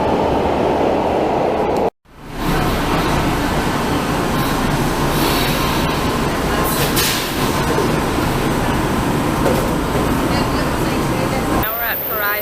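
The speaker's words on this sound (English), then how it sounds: "we're taking the subway" A São Paulo subway train rides along with a loud, steady rumbling roar of wheels and carriage noise, broken by a brief dropout near the start, with a rising whine toward the end.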